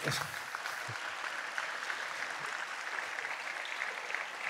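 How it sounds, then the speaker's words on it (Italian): A round-table audience claps steadily for a musician, a dense patter of applause at moderate volume without any speech. "Facciamolo, facciamolo l'applauso."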